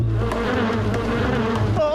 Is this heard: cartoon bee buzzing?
yes